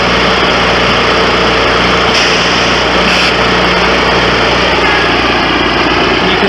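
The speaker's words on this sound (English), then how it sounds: "The 3 probes go into the ground, the compressor on board then releases the air" Ground aeration machine with an on-board compressor driving three probes into turf and releasing air, a loud steady engine drone with a brief hiss of air release, close and continuous without talk.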